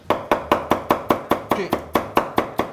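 Steady, rapid knife chopping of green onions on a cutting board, about a dozen crisp, evenly spaced strikes, close and clear with no talking.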